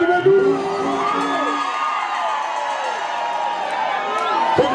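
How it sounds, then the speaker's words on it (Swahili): A crowd at a candle lighting ceremony cheers and whoops loudly, with shouts and voices mixed in over a dense, steady roar of people. "Wapi makofi kwa Roy Lady Shodo Medu."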